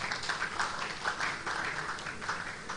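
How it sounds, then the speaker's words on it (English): An audience applauds in a steady round of clapping, a continuous patter of many hands at moderate distance with no voices over it. "we should all give ourselves a round of applause for that"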